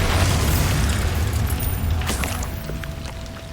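A Bombarda blasting spell goes off in Hogwarts Legacy, a loud, deep boom with a heavy low rumble that decays slowly over a few seconds, with a faint tonal ring lingering near the end.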